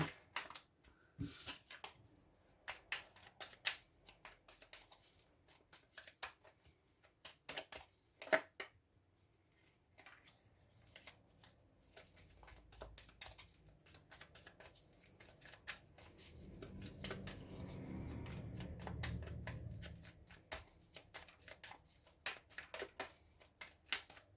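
Oracle cards are shuffled for a reading, heard as faint, quick riffling and tapping bursts scattered throughout, with a soft rustling stretch in the middle, all quiet and close.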